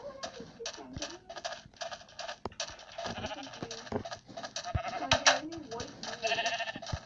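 Sheep bleat repeatedly in a video game on a mesa plateau, several short calls scattered across the clip over background game sounds, with occasional clicks that suggest typing.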